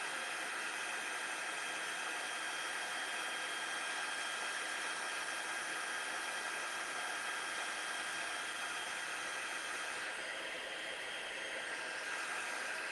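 A heat gun blows steadily for multi-color embossing, a continuous close hiss with a slight shift in tone near the end, no talking.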